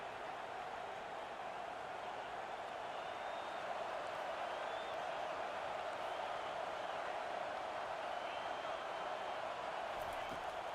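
Stadium crowd in a college football video game, a steady faint roar of cheering that holds evenly throughout with no distinct peaks.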